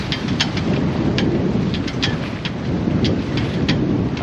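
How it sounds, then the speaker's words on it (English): Sea spray drums on a heeled sailboat in strong wind, a dense, loud rain-like hiss with scattered sharp droplet hits over a constant rumble of wind, with no speech. "Oh yeah, we're getting sprayed."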